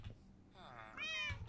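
A Minecraft cat lets out a drawn-out, wavering meow that rises toward the end, close and fairly loud over a faint background hum.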